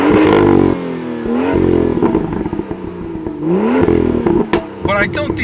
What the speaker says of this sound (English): I don't dislike the M2 Competition's exhaust sound at all